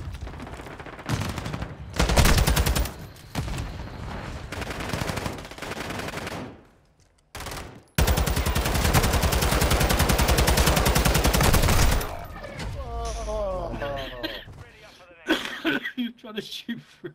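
Bursts of rapid automatic gunfire from Call of Duty Warzone 2.0, loud and close, arrive in several long volleys with brief gaps between them, ending in quieter scattered game sounds.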